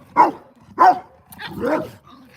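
A small dog barks close up in a live stream where it plays with larger dogs, giving two sharp barks followed by a longer, wavering whine-like bark, loud and alone with no talk over it.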